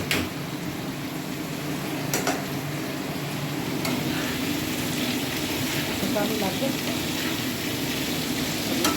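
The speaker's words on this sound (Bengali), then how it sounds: "আলুটা ভাজা চলছে, মিক্স করছে" Potatoes sizzle in a pan while being stirred for Bengali-style chowmein, a steady frying hiss broken by a few sharp scraping clicks, with brief talk over it.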